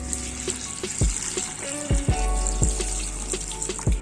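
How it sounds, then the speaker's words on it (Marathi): Water is poured over dried Bombay duck to soak it, a close, continuous splashing stream broken by a few sharp knocks and drips. "त्याच्यामध्ये आता मी पाणी टाकते बोंबील भिजवायला"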